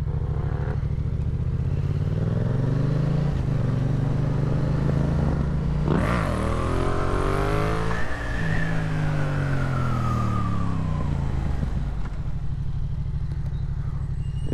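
An XSR 700 motorcycle fitted with a throttle restrictor roars loudly and steadily close by, its engine pitch climbing sharply through a couple of hard revs before settling back, with no voices.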